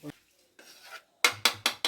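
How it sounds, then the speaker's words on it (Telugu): Fish curry being stirred with spices in a pot for Nellore-style chepala pulusu, a short scrape, a longer rasping stir, then three quick sharp metallic scrapes of a spoon against the pot, close and clear. "బాగా కలిపి"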